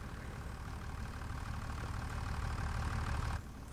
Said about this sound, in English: So, better leave the engine running.